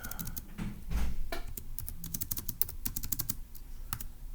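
Keys clatter on a computer keyboard in quick, uneven bursts of close, soft taps, with short pauses between runs and a faint background rumble.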